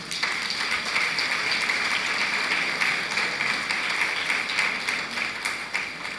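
A large gathering applauds the Bishop of Sokoto Diocese, Matthew Hassan Kukah, at his seventieth birthday event, a sustained, even roar of many clapping hands lasting the full six seconds with no break.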